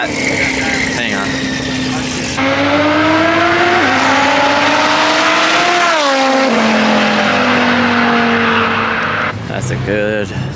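Engines of an Audi RS3 and an 800 WHP Evo rev and pull hard through gear changes in a street race, a loud sustained roar with people talking over it.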